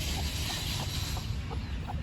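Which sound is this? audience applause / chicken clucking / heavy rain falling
chicken clucking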